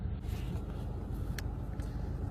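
Car rolling slowly along a street while a man walks his dog beside it, a low steady engine rumble at moderate distance with no talk.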